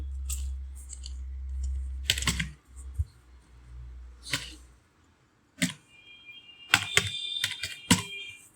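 Typing on a computer keyboard while entering a river name in QGIS mapping software, close and clear, in short irregular bursts of clicking keystrokes separated by pauses, with a low hum early on.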